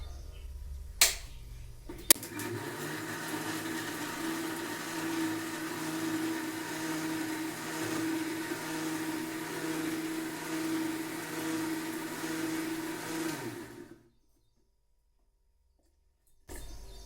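A mixer grinder runs steadily, grinding spice paste for sambar in a small home kitchen, its motor whine loud and even for about twelve seconds before stopping abruptly into silence, then a brief restart.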